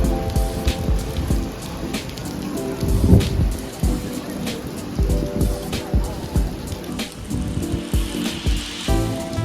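Steady rain patters down at a temple in Korea, a dense continuous hiss with drops hitting surfaces nearby, broken by low rumbling thuds.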